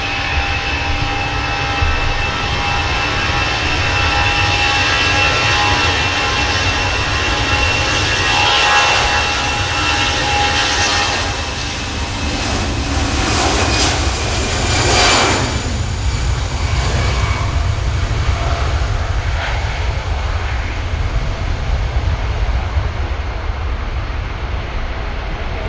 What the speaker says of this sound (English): EasyJet takes to the skies.